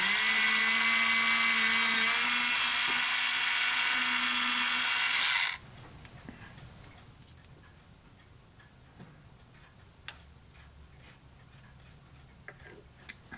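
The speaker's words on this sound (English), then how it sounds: "Now the drill bit I selected is just a tiny bit bigger than the positioning pegs." A loud, steady high-pitched whine of a small drill boring a model ship part runs for about five seconds, then cuts off, leaving faint ticks and light handling noises.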